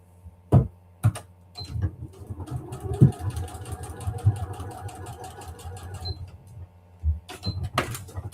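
A sewing machine stitches a paper-pieced quilt block in one steady run of several seconds, framed by sharp clunks and handling knocks before and after, close and moderately loud with no talk.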